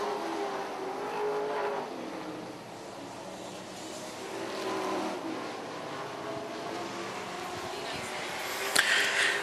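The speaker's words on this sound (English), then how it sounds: "Then it's going to be the 97 machine of Haywood Kurt" Race cars drone around the track at Charlotte County Speedway, a continuous engine roar rising and falling at a distance, with faint announcer-style talk mixed in.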